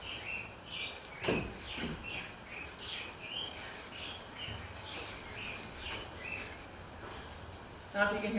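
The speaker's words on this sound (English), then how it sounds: "I don't know if you can hear the birds" Small birds chirp outdoors in short, repeated tweets, faint and scattered through steady background hiss, with a brief louder burst of calls near the end.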